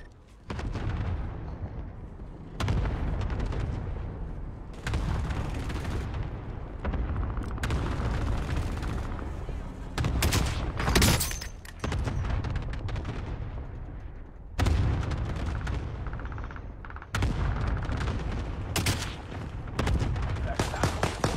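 Heavy, booming gunfire from an online shooter game keeps going in dense bursts with few gaps, and a voice talks over the shots now and then.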